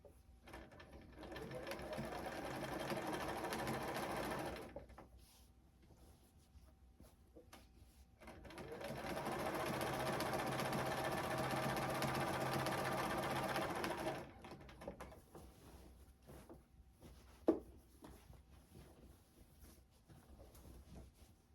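A sewing machine runs a standard stitch at 2.5 length across a beginner's baby quilt in two long, steady runs of several seconds each, with quiet handling noises and a single sharp click in the gaps.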